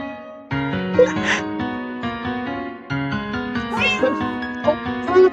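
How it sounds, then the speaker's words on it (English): Cat meows from the game Undertale Yellow, several bright, repeated mews layered over steady game music, with no speech. "Oh, there's a cat!"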